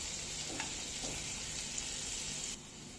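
Garlic sautéing in butter in a pan before broccoli goes in, giving a steady, soft sizzle and crackle at low level, with a brief stir partway through and no voices.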